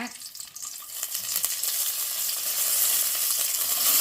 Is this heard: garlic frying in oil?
yes